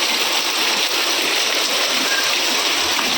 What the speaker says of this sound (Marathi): आता मस्त पाऊस लागलाय,